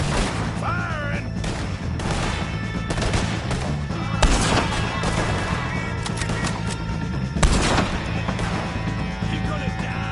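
Gunshots in Red Dead Redemption 2 pop over a steady musical score, with a few heavier blasts standing out amid the ongoing in-game ambience.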